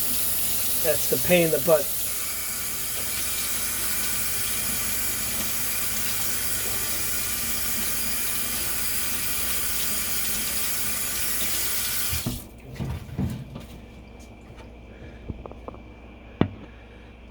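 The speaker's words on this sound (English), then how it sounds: "I'm washing my hands, of course, again." A kitchen tap runs in a steady, loud hiss for about twelve seconds while hands are washed during cutlet preparation, then shuts off, leaving a few clatters; someone speaks briefly at the start and after.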